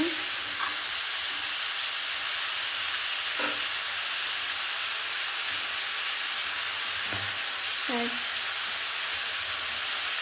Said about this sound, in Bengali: দিয়ে একটু নাড়াচাড়া করছে।